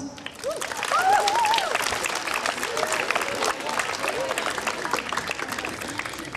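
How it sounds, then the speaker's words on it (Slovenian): A crowd at an outdoor opening ceremony for a handball court applauds the singers of a primary school choir, steady clapping at moderate distance with voices calling out over it. "pa jim dajmo še en velik aplavz"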